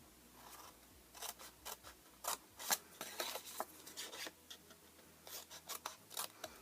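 Scissors snip notches into a paper Easter box, giving a quick series of faint, crisp cuts and paper rustles close by.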